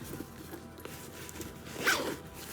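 A zipper on the side pocket of a Coach handbag is pulled open or shut in one steady, close rasping run, standing out against quiet rustling of the bag.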